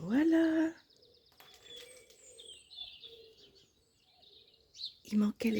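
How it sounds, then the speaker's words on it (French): Morning birdsong at 7:30 in Plévenon, Brittany: scattered high chirps and tweets with soft cooing calls, fairly distant, between a person speaking at the start and end. "il manquait les oiseaux."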